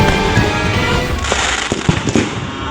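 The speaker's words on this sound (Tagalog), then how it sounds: "Nang biglang nagsabugan sa baba ang mga paputok." Loud fireworks go off in a dense, continuous crackling barrage at street level beside a row of shops in Barangay de la Paz, Antipolo City, on New Year's, with sharp pops peppered through the roar.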